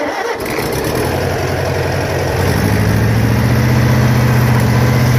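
An old International tractor engine cranks and catches, then settles into a loud, continuous rumbling idle close by that grows slightly deeper and stronger.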